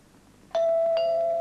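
A front doorbell in a 1960s or 1970s UK television advert sounds two bright chime strikes, loud and close, the tone ringing on steadily afterward.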